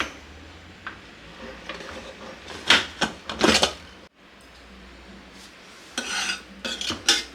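A metal kitchen pressure cooker being opened after cooking moong dal sambar, with close, sharp metallic clanks and scrapes of the lid coming in two short bursts separated by a quiet pause.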